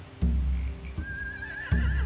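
Horses in a zombie-survival video game whinny and neigh in three separate loud calls, each opening with a heavy low burst and trailing into a high, wavering cry over a steady low rumble.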